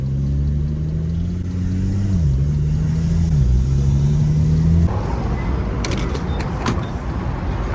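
A BMW 340i drives around the block with a steady mid-pitched engine hum that rises and shifts as it runs, then gives way to road rumble. A few short mechanical clicks come near the end.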